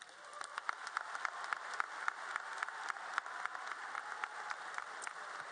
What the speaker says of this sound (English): Please join me in giving our two advisors and principal a round of applause for their dedication to our class.